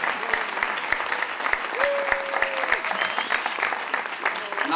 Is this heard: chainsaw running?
no